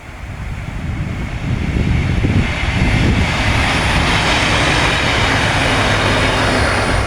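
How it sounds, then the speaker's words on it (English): A morning train rumbles past close by, a loud, steady roar that swells over the first two seconds and then holds without letup, with no one speaking. "Oh, here comes the morning train."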